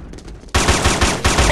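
Rapid automatic gunfire in the PS2 game Killzone, a loud, close, steady burst of rattling shots that starts suddenly and continues to the end.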